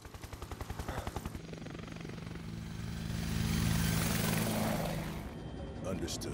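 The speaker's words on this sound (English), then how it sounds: "Helicopter looked cool." A helicopter in the video game Final Fantasy VII Remake, its rotor chopping in fast, even pulses that blend into a rising, whooshing engine roar as it passes close, with held musical tones and game sounds underneath.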